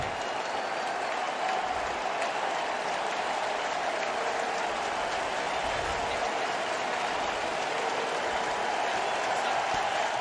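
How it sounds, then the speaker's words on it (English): Applause and cheering from a baseball stadium crowd giving pitcher Max Fried an ovation during a wild card postseason game against the Red Sox, a broad, steady roar of clapping heard at a distance. "And there'll be a great ovation for Max Fried."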